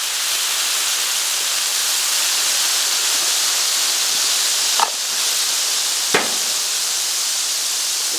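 Water hitting a hot Blackstone griddle during cleaning gives a steady, loud steam hiss throughout, broken by a couple of brief sharp crackles or scrapes near the middle and later.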